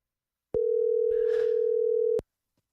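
One steady, unbroken telephone tone lasts about a second and a half while a dropped call is redialed. It is clear and fairly loud, with only a faint background rustle underneath.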